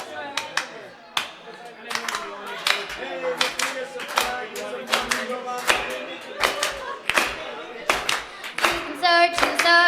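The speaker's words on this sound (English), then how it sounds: "So if you can all clap to this rhythm throughout the whole song." A live audience at a music venue claps a steady rhythm together, sharp repeated hand claps in time, with singing and music running underneath.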